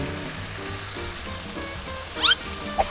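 Minced pork stir-fried with red holy basil in a pan, with a soft continuous sizzle and faint scraping of stirring, then a couple of brief sharp squeaky scrapes near the end.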